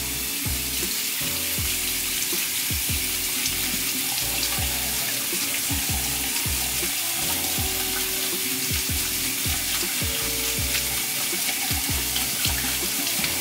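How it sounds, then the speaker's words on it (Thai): Tap water runs continuously from a faucet over a forearm coated with blush makeup during a waterproof test, a steady splashing rush at close range with no voices. "อันนี้คือน้ำไหลผ่านแล้วนะคะ"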